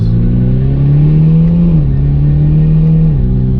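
Mitsubishi Lancer Ralliart fitted with an Evo X engine holding a loud, steady rev close by, the pitch stepping up and down slightly at a constant throttle with no talk.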